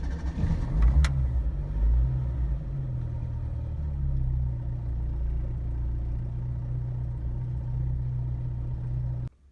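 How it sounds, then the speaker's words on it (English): A 1990 Yugo 45 small car engine cranks briefly, catches and settles into a steady, close, loud idle with a low rumbling drone that runs until it cuts off at the end. "And it'll start up."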